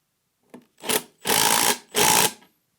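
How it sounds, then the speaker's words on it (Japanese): An impact driver drives screws into a timber joint in short bursts: one brief blip, then three whirring runs of rising length, loud and close, with silent gaps between them. "先に何回か回してからインパクトで締めてください"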